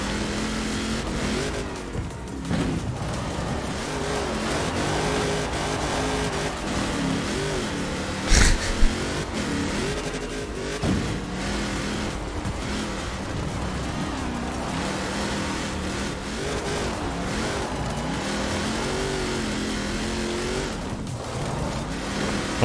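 A car engine in Forza Horizon 4 revs and accelerates hard and loud through the whole stretch, with rising and falling gear pitch, shifts and a brief sharp knock midway.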